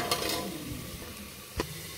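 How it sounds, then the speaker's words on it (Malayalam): Onions frying in oil in a pan for egg biryani, a faint steady sizzle with light stirring scrapes and one brief utensil knock near the end, no talk. "വറുത്തെടുക്കാം."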